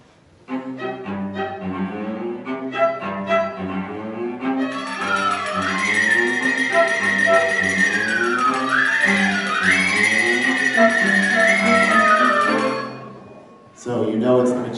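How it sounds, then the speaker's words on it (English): Musical theme for a wizard magician character: a plucked opening that swells into a sustained, wavering melody over held chords, moderately loud, fading out before a brief new sound at the end. "there's a character who's a magician, and he spends a lot of time playing tricks, casting some spells"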